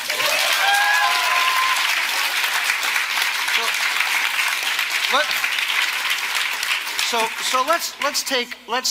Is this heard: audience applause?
yes